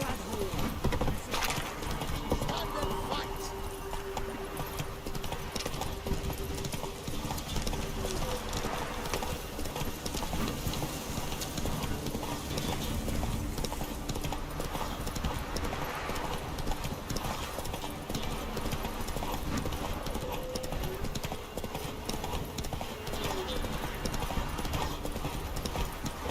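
In The Witcher 3, the horse Roach gallops with a dense, continuous run of hoofbeats throughout, mixed with game music, ambient noise and occasional speaking voices.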